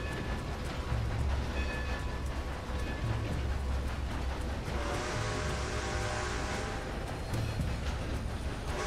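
Steam locomotive running in Red Dead Redemption 2, a steady loud rumble with rhythmic chugging and rail noise throughout, growing brighter and hissier about halfway through, with no talk.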